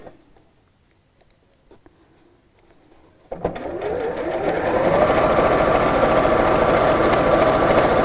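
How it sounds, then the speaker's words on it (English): Sewing machine running steadily as it stitches a straight seam along the lined-up edges of a cushion cover, starting abruptly after a quiet pause and then droning continuously and fairly loud to the end. "So just keep lining up the edges and sew straight down."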